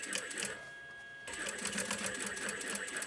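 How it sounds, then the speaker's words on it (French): A sewing machine stitching a denim pouch made from recycled jeans, a fast whirring mechanical chatter with a brief quieter hum before stitching resumes, close and fairly faint. "on est toujours en train de coudre"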